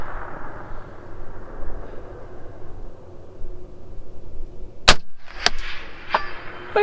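A sharp, loud report from a Palmetto State Armory Gen 2 .308 AR-10 rifle with a 16-inch BCA barrel at a shooting range, a sudden crack followed by a few metallic clanks after a quieter stretch.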